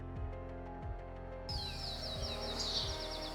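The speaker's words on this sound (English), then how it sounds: "Japanese bush warblers sing from forest canopy, their distinctive call penetrating urban noise." A Japanese bush warbler sings from a forest canopy near a Shinto shrine in Japan: one sustained whistled note rising into a quick warbling flourish, heard over a steady low tonal background.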